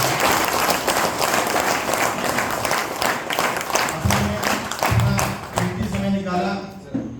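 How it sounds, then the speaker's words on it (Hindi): Loud crowd applause at a company Sunday meeting, dense and steady, with a voice starting to speak over the clapping toward the end. "जोरदार ताली हो जाए इसके लिए"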